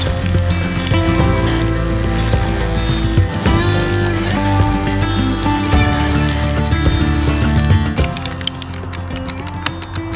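A Wild Badger 20v battery string trimmer cuts along a grass edge, its electric motor whining steadily up close with rough, uneven cutting noise layered over it for the whole stretch.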